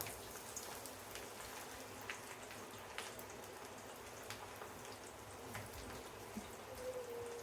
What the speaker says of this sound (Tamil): இப்போது நம்ம சூப்பராக வாழைப்பூ பக்கோடா போடலாம்.